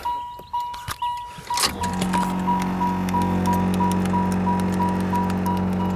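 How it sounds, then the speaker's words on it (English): A few sharp clicks, then the compressor of a Ferrari Testarossa convertible starts up and runs with a steady, droning mechanical hum and faint ticking. "I know you hear that. That's a compressor."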